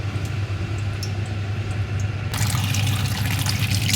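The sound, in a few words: drinking water being poured from a container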